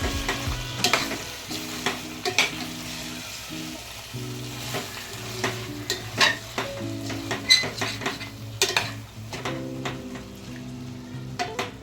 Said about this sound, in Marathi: या स्टेजवर आपण ॲड करणार आहे कोलंबी मॅरिनेट केलेली